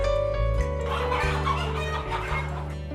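Kadaknath chickens on a poultry and egg farm, with steady clucking and fowl calls over a busy, continuous farmyard din.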